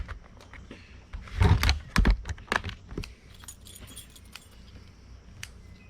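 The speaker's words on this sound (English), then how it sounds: "Keys in the ignition." A set of keys jangles and clinks in a vehicle as it is readied for a bass fishing trip, with a burst of close metallic rattling in the middle and lighter taps before and after, no talking.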